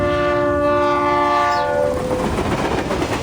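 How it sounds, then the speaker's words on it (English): Train ride sound from the Reverse 1999 video game, a train journey to Vienna: a loud, sustained horn blast fades into the steady rumble and clatter of the moving carriages, with no voices. "On the train to Vienna,"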